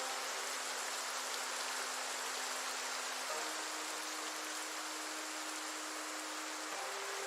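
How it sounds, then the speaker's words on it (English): Steady rain and wind in the zombie survival game Project Zomboid make a soft, even wash of noise that continues unbroken throughout, faint and enveloping, with a low tone humming beneath it. "Rain and Wind has also had some mix adjustments"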